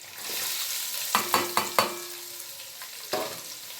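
Ginger, onion and chillies stir-fry in a pan for Hakka noodles, a steady sizzle with a few sharp scrapes and clanks of a spatula, close and moderately loud, with no talking.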